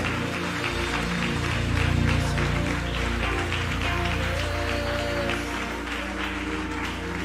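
A church congregation claps and cheers together during a worship service, dense and sustained over music, with voices mixed into the crowd noise.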